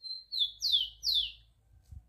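A rufous-collared sparrow sings a brief, clear phrase of a few high, sweet whistled notes around a house, close and alone, with a faint low rumble behind.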